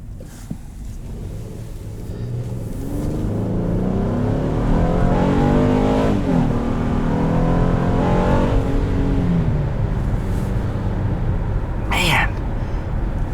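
Heard from inside the cabin, a 2016 Honda Pilot Elite accelerates into VTEC, its engine note climbing steadily and growing louder as revs build.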